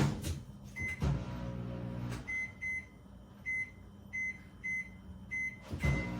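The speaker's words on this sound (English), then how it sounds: "I'm putting this in the microwave for 2 minutes and 40 seconds." A microwave oven hums steadily after a door thud, while a series of evenly spaced keypad beeps chirp during setup, ending with another clunk.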